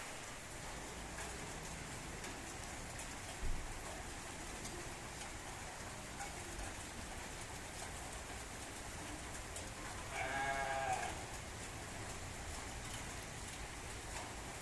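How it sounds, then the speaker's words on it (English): Rain falling at the Manu temple in Old Manali: a faint, steady wash of hiss throughout, with a soft thump near the start and a brief, distant bird call near the end. "It's raining right now."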